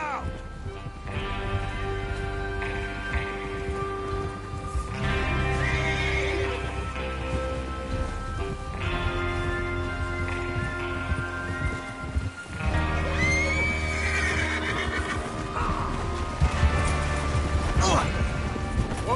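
Horses whinnying and snorting with hoofbeats in the video game Red Dead Redemption 2, several loud neighs over a continuous bed of game sound, with possible rain in the background.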